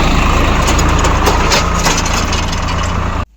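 Tractor engine running close by in an Indian village, a loud, rough, steady rumble with rattling texture that cuts off abruptly at the end.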